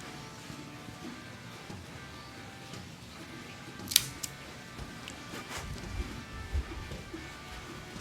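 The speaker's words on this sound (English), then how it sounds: "I am going to use the Cassetti multi-cutter V-cut." A cigar being cut with a Cassetti V-cut multi-cutter, a single sharp snipping click in a quiet room, followed by a few faint handling sounds, close and brief, with no talking.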